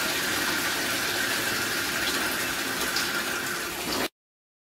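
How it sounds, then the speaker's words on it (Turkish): Steady gushing water runs continuously as old water drains out of a combi boiler during servicing, a close, even rush that stops abruptly near the end. "öncelikle cihazın içerisindeki eski suyu boşaltıyoruz"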